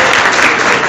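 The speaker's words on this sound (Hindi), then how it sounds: "मैं चाहूँगा कि आप लोग प्रभुपाद जी के लिए ताली बजाते हुए और मेरे उत्साह वर्धन के लिए बीच में जो भी अच्छा लगे आप ताली बजाते" Steady, dense applause from an audience at a 2023 ISKCON Ghaziabad devotional gathering in honour of Srila Prabhupada. It runs loud and unbroken for the whole short moment, with no voices over it.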